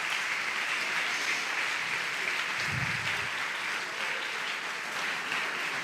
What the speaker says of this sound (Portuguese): aplauda, por favor.